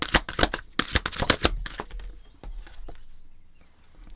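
Oversized oracle cards are shuffled by hand in quick riffling bursts for about two seconds, followed by a few sparse taps and slides of the cards, close up with no voices.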